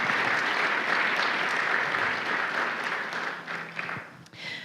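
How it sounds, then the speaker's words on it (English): A room of community members applauds as ambassadors stand at a regional business gathering, a steady wash of many hands clapping at a constant level that gradually thins toward the end. "Let's give them a round of applause."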